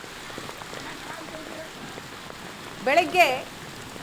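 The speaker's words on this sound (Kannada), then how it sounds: "ರಾಜ್ಯದ ಹಲವು ಜಿಲ್ಲೆಗಳಲ್ಲಿ ಇದೇ ರೀತಿ ಮಳೆಯಾಗಿದೆ." Heavy rain mixed with hail pounds down in a Karnataka district as a dense, continuous patter on surfaces, while a voice briefly speaks near the end.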